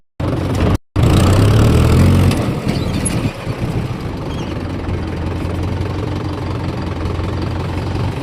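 A tractor engine runs loud and steady while being driven into shade, a deep low-pitched rumble that surges briefly after a short cutout, then settles into a constant chugging drone with no talk.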